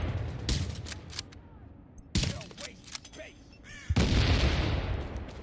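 Gunfire erupts in a shooter game as a player fires at an enemy: several sharp, loud bursts of shots separated by quieter gaps, with faint talk between them.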